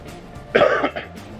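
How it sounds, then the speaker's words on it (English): A single harsh cough bursts out close by, brief and throaty, with a smaller follow-up catch in the throat, against a quiet background. "Excuse my cough."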